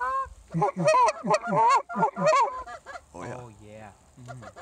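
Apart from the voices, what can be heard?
Canada geese honking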